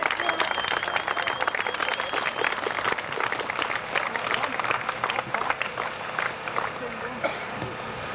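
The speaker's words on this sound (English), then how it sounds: "give it a nice big round of applause" Crowd applause at a York Raceway trophy presentation in 1989: dense, steady clapping from many hands for about eight seconds, filling the space evenly without letting up.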